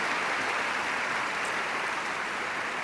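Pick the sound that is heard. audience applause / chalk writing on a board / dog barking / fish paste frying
audience applause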